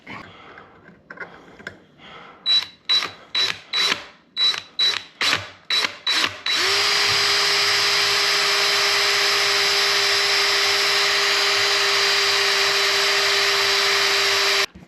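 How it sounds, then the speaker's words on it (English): A power drill with a 7/32 bit bores a small hole into an old dishwasher door hinge pin. A series of short taps and bursts comes first, then the drill runs in one loud, steady whine close by. "This is a 7/32 drill bit, which is about half the size of what's left of the pin. I think I'm going to drill a smaller hole first."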